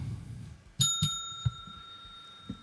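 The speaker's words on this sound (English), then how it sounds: "I definitely want to ring that bell right now." A bicycle bell rings with a couple of bright dings that leave a lingering metallic ring, followed by a few soft knocks.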